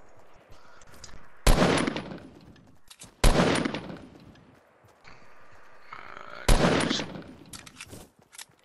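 Fortnite Battle Royale gunfire: three sharp, loud bursts of shots spaced a couple of seconds apart, each trailing off, over a quiet game background with faint footsteps.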